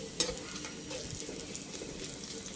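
Fish fries in oil in a frying pan, making a brief, soft, continuous sizzle with a small clatter at the start and no talking.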